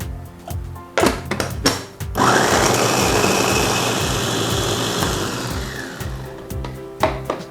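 A kitchen blender whirring through chili, garlic and coriander root for a Thai dipping sauce: brief stop-start pulses, then a loud steady grinding roar for several seconds before more short pulses.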